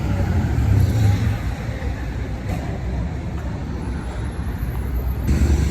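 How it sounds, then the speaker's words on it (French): A bus leaving for the Medina rumbles nearby as a low, continuous engine drone with traffic noise around it, swelling slightly at the start and end. "Le bus c'est ça qui part à la Médina."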